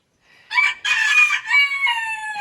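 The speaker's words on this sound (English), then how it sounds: "my rooster is directly underneath me" A rooster crows once, loud and close, a bright drawn-out call in several rising and falling segments lasting about two seconds, standing alone against an otherwise quiet background.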